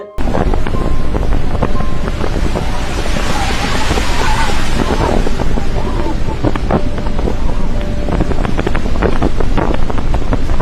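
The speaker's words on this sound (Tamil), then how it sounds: "காத்து மிகவும் பலமா வீசுது" Strong wind roars and buffets the microphone continuously, loud and close, with a rushing low rumble and faint background sounds.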